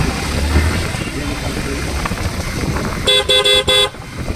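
Traffic crawls along a road jammed by a village fair at Premtoli, Godagari, with a general hum of engines and crowd, then a car horn blares in several short, loud honks near the end.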